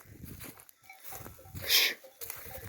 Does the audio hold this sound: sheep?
yes